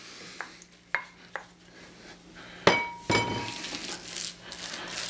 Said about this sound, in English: Now I'm going to fold in my quinoa.